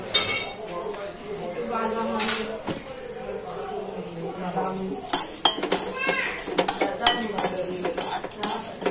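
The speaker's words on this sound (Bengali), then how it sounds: "গ্যাস অন করে মশলা সমেত কড়াই বসিয়ে দিয়েছি। মশলাগুলোকে একটুখানি ভেজে নেব।" Whole cumin, coriander, fennel, dried chillies, cloves and cinnamon dry-roast in a wok on a gas stove, with a spatula scraping and clinking against the metal, sharper clanks coming in the second half and some talk early on.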